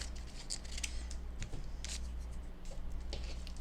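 Scissors snip through fabric for a junk journal, giving a few soft, close crunching cuts over a low steady background hum.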